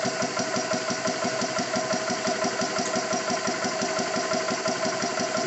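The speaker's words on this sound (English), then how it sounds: "You can hear the compressor labor a bit as it starts to get the pressure in" Xisico CS3 4500 PSI portable compressor building pressure, a steady fast mechanical thumping hum that runs evenly throughout with no talk.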